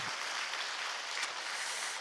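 A church congregation applauding in thanks during a Korean revival service at a fasting prayer retreat, a dense, steady wash of many hands clapping together, fairly distant and even throughout.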